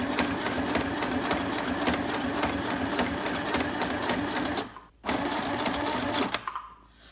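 A We R Memory Keepers Stitch Happy sewing machine stitches through paper in a steady, rapid, close-up whir, pausing briefly near the end before a final short burst and stopping.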